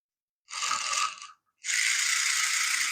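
A 1992 CharG 4WD radio-controlled car's electric motor and gears spin all four wheels, giving two close, steady whirring bursts of about one second each with a brief gap between them.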